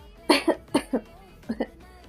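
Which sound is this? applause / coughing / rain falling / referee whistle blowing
coughing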